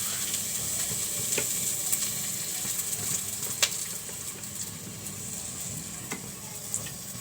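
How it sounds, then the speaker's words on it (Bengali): Chopped onions in mustard oil sizzling steadily in a pot while chicken is cooked, a constant close frying hiss with a few sharp crackles and pops, no voices. "এখন আমি পেঁয়াজ কাটা দিয়ে দিচ্ছি, সরিষার তেল দিয়ে দিচ্ছি"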